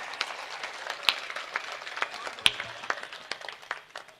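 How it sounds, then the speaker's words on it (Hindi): An audience at a Hindi comedy poetry gathering claps, a thin scattering of individual handclaps with a few sharper, closer claps standing out, loose and uneven rather than a full roar. "पूरा सदन हाथ खड़े करके जोरदार तालियां बजाए"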